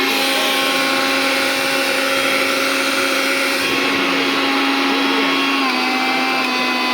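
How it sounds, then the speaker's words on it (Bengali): An 1100-watt Disne Italy mixer grinder blender whirs loudly and continuously. Its motor drone shifts in tone partway through, then carries on steady with no speech over it. "Super quality Blender."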